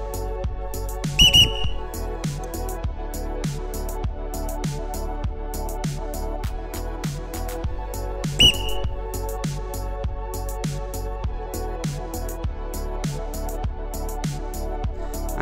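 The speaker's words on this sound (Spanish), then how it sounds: "básicamente le toco con el silbato para reconducirle el vuelo" A whistle blown to guide a free-flying cockatiel, two short shrill blasts a few seconds apart over a rhythmic musical backing track.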